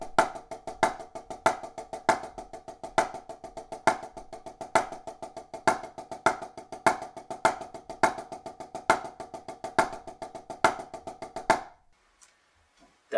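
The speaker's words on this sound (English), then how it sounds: "That's the double and single paradiddle." A drum plays single and double paradiddle rudiments as steady, evenly spaced strokes with accents recurring in a repeating pattern, alone and fairly close, then stopping.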